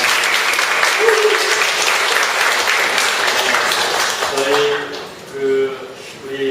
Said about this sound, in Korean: 좀 경의하는 차원에서 박수 해주십니다